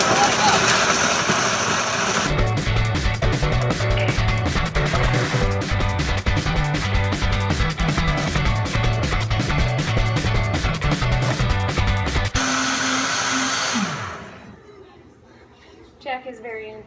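A Vitamix blender runs on its smoothie setting, a loud, steady whirring roar up close that shifts in pitch partway through and then winds down and stops, with faint sounds afterward.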